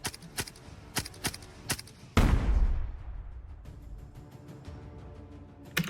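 A soldier in a trench rushing out and opening fire from behind: several sharp single gunshots in an uneven rhythm, then a loud booming burst that rolls away into a fading rumble, with faint clicks afterward.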